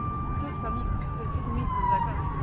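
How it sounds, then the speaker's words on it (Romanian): Police sirens wailing at a Romanian Gendarmerie Day celebration in a Bucharest park, a steady high tone gliding slightly downward, moderately loud under low crowd murmur and some nearby talk. "N-am putut să vorbesc din cauza sirenelor care cântă de peste tot."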